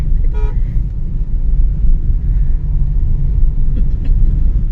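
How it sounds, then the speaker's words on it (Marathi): Steady low engine and road rumble heard from inside a car on the road trip from Mumbai to Chiplun, with a brief horn toot near the start and no talking. "सोहम दादा पण आहे गाडी चालवते"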